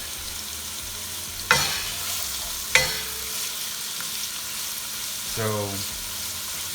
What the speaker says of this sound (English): Okay, so we're gonna saute this on high heat.